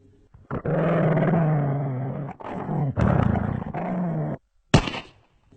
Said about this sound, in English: the deep roar of the hound